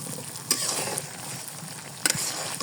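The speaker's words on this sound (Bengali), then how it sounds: "মশলাটা ভালোভাবে কষিয়ে নেব" A ground paste of garlic, ginger, cumin and coriander with turmeric fries in oil for a sweet-sour green mango pickle, giving a low sizzle under two sharp metallic scrapes of the stirring spoon.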